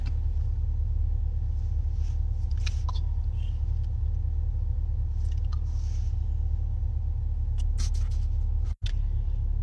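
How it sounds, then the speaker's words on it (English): A car engine warming up, heard as a steady low idling rumble that stays constant and moderately quiet, with a few faint clicks and rustles on top. "I could be out here warming up my car"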